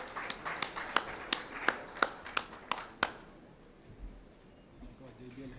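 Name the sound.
audience applause at awards dinner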